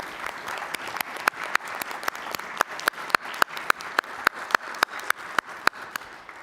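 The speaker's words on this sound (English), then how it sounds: "I'd really like to give Peter a big round of applause for doing that" Small church congregation clapping at an annual parish meeting: fairly quiet, evenly paced hand claps in a steady run of about three per second, with no talking.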